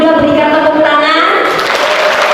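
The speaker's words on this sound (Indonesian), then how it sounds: "boleh anak-anak muda berikan tepuk tangan" An audience of young people applauding at a youth pledge and heroes day commemoration in a hall, a loud, dense clatter of clapping throughout while a voice talks over it.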